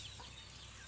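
Chickens, a large rooster and a hen, cluck softly in a very short burst, faint and close, with no talking.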